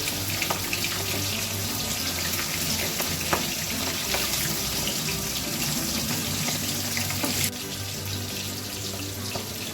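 Mustard oil pours from cut-open packets into a large barrel, a continuous close, splashing gush of liquid that runs steadily and then eases slightly near the end.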